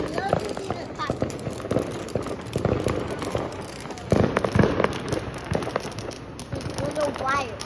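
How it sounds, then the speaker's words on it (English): Fourth of July fireworks exploding in rapid loud pops and crackling bursts outdoors, a dense string of bangs under excited chatter from nearby people. "the loud fireworks are the best"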